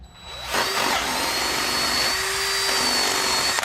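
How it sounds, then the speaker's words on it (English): A power drill bores a hole through a Lifetime Yukon fishing kayak, a sustained high whine that starts after a brief ramp-up and holds steady and loud throughout, with no talking. "Now we got a hole drilled."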